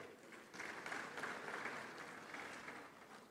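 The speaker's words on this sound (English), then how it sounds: "they deserve a round of applause for the great work they've done for the continent of Africa" Audience applause at a bank conference session in Ghana honoring contributors, a steady wash of clapping from a crowd, moderately distant, holding throughout.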